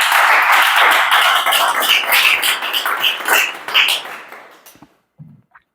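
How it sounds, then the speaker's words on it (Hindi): Loud, dense clapping from a classroom group, a sustained burst of applause filling most of the clip before tapering off into a few scattered final claps. "जोरदार ताली मारा"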